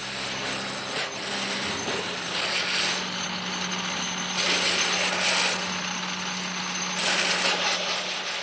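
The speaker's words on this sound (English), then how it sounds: "This prototype robot security man with cameras in its head appears to be moving cleverly." A prototype security robot with cameras in its head moves with whirring, ratcheting mechanical sounds over a steady electrical hum, continuous and fairly close, with no talking.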